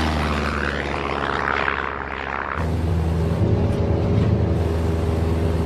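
A rescue aircraft drones steadily overhead with a loud, continuous engine hum, swelling partway through and staying close and dominant with no voices.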